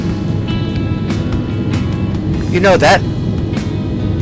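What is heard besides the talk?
rumbling aircraft engine noise in a flight simulator game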